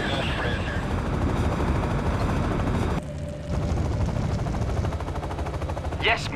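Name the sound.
aircraft launching in the video game Act of War: Direct Action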